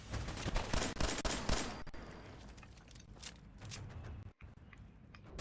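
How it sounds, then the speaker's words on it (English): Bursts of gunfire from the Fallout 4 video game, fast rapid shots crowding the first two seconds, then scattered single shots and a brief cutout of sound before the firing resumes. "you have to shoot these three guys here"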